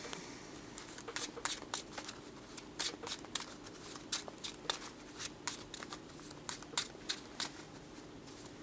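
Playing cards shuffled by hand during a tabletop Black Widow versus tower defense solo game, giving repeated quick riffling bursts of soft paper clicks and flutters, close and fairly quiet, with a faint hum underneath.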